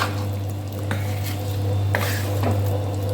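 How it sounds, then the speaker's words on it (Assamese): A spoon scrapes and clinks against a pot while vinegar is stirred into homemade pork pickle, a few light metallic taps and soft wet stirring over a steady low hum. "ভিনেগাৰ দি সানি দিছোঁ।"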